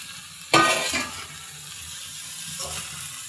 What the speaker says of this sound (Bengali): আলু এবং ভেন্ডির সাথে মাশরুম কুচিটাও মিশিয়ে নিচ্ছি।